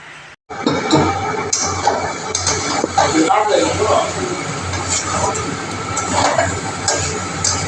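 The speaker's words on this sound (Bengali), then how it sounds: "আন্দাজ মতো লবণ, এগুলোকে একটু ভালো করে ভেজে নেব।" Pointed gourd curry with potatoes frying in a pan with salt, a loud close sizzle with scraping stirs and occasional utensil knocks, continuous throughout with a voice talking over it.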